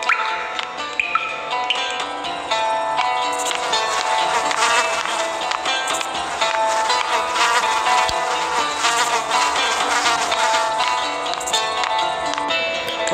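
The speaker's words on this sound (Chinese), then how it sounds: "引诱这些蜜蜂，那些苍蝇进来" Flies and bees buzz steadily and loudly around carnivorous plants set out to lure them in, a dense, continuous drone with no pauses and no talking.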